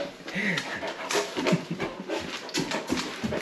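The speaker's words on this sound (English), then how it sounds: "He keeps drinking water." A dog laps water in a kitchen, with repeated wet lapping and panting close by, irregular and fairly loud, while a person talks briefly in the background.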